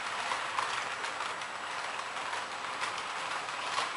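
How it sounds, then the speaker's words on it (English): A Märklin model ICE train runs into the station on a model railway layout, giving a steady, fairly faint rolling hiss with light clicks throughout and no talk. "What a beautiful ice train into the station."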